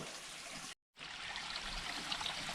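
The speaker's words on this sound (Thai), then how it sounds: "นี่ครับน้ำไหล" Forest stream water flowing and trickling steadily, a close, continuous wash broken by one brief gap of silence.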